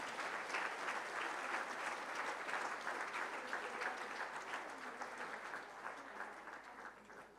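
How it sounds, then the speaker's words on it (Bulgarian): A church congregation claps together in sustained, dense applause at a moderate distance, holding steady for several seconds before thinning slightly toward the end. "Дайте слава на Господа с ръкопляскане."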